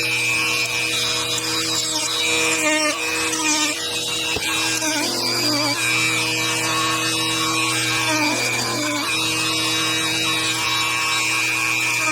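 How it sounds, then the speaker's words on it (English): A Dremel rotary tool cuts plastic trim on a 2024 Ford F150 4x4 5.0, a steady high-pitched whine with brief grinding bursts as the bit bites in, close and loud throughout. "So I'm just going to take my Dremel, cut this to access that"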